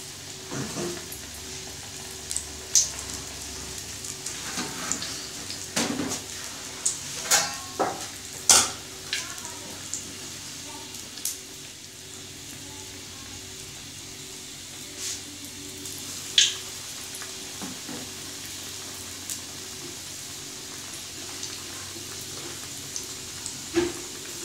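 Steady sizzling and crackling of cireng, Indonesian tapioca snacks, frying in hot oil, with scattered sharp pops and a few clinks, close by and no talking.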